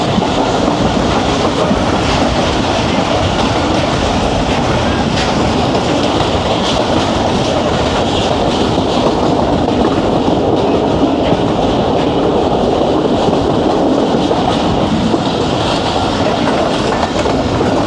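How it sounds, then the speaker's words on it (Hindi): The Jaffar Express runs on rails in Pakistan, heard as a loud, continuous rumble with clickety-clack wheel rhythm and a steady roar of carriage noise, without speech. "टाइम हो रहा है 11:27 और पहुंच रही है ट्रेन हमारी चकलाला स्टेशन।"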